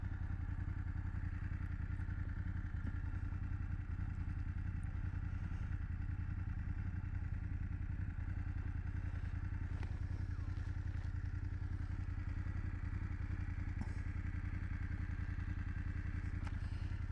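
A 2024 BMW F 800GS motorcycle on the move, its engine drone steady and continuous beneath constant wind rush, with occasional faint clatters and thumps from the road.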